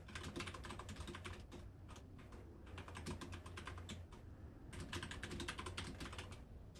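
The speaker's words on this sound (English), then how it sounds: "I apologize if all you're gonna hear is typing." Steady, fast typing on a computer keyboard, dense clusters of key clicks in bursts with brief pauses, close and quiet with no talking.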